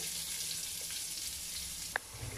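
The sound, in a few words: cumin seeds and onions frying in oil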